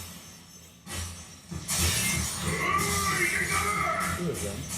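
Glass shatters in a One Punch Man anime scene, a loud bright crash that bursts in and leaves a sustained spray of falling shards with dramatic music and effects layered beneath.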